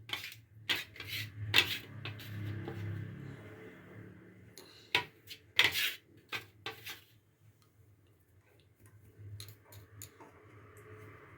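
Mashed potatoes stirred and fried in ghee over a low flame for aloo halwa, with sharp, scattered clinks and scrapes of a metal spoon against the pan and a soft sizzle between strokes.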